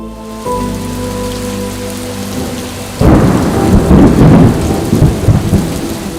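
Steady rain with a low hum at first, then a loud rumble of thunder breaks in and heavy rain roars on for several seconds.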